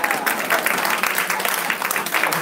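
Audience applause at a Democratic political forum, a dense steady patter of many hands clapping through the whole stretch with murmuring voices mixed in.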